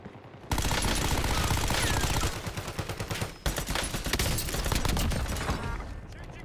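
Rapid automatic gunfire from a hard-recoiling gun in the Warzone video game, loud sustained bursts with a short pause in the middle, resuming in continuous fire.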